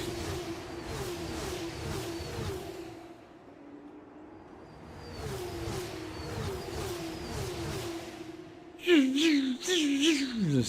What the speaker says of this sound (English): They sound fucking so good as well, the cars